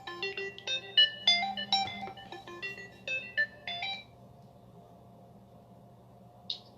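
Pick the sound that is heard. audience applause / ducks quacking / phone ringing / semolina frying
phone ringing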